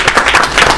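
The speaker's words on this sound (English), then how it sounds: "Everybody give a big round of applause for Tabassum being late." Brief round of applause from a small room of people during a talk, a short burst of dense, close clapping with no voices over it.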